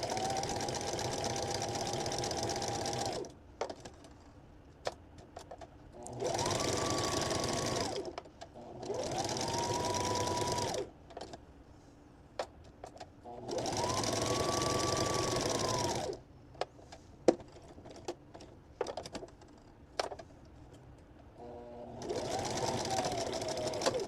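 A sewing machine stitching cotton wipes runs in four or five steady whirring bursts of a few seconds each, separated by quieter gaps of fabric handling and small clicks, close and clear.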